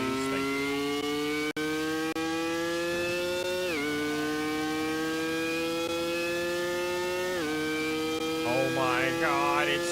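The Mach 5 car engine in Car Mechanic Simulator 2018 gives a loud, steady whining drone that rises in pitch and drops sharply twice as it shifts, with a short burst of speech near the end.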